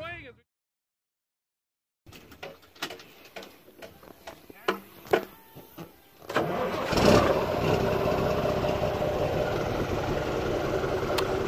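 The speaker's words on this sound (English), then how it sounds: "we got Bundy the air compressor running here" A few knocks and clunks on a barn building site, then an air compressor starts up partway through and runs loud and steady to the end, with no talking.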